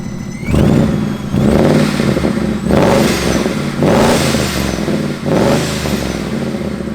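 Supercharged Ford Mustang GT V8 with a Camaro resonator revved to about 3,000 RPM, blower whine over the exhaust; five loud, close rev pulses rise and fall in a steady rhythm, with no talking.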